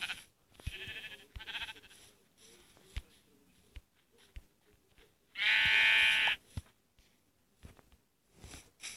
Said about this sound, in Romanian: În sfârșit, oi!